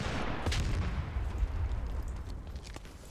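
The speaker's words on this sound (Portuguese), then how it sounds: "Quem ele tá atirando, mano?" Distant gunfire in a PC squad shooter, faint scattered shots and rumbling booms under a steady noisy battlefield ambience.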